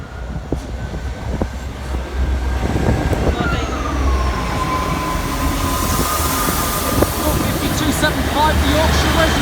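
A diesel passenger train, a pair of Class 158 units, rumbles at a station platform in Lincoln near a level crossing, engine droning loudly while a high squeal slides down in pitch; brief voices are heard nearby.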